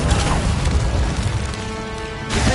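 A fiery spell blast erupts in the game Hogwarts Legacy, a loud, dense whooshing burst that roars steadily for about two seconds before cutting off, with no voices.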